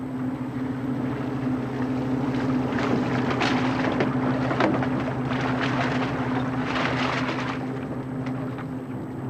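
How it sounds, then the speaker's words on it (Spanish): A marine biological laboratory launch boat sets out at sea near Woods Hole, its engine a steady low hum beneath gusty wind and splashing water, continuous throughout. "la lancha de los laboratorios biológicos marinos sale en su viaje diario de recogidas de muestras"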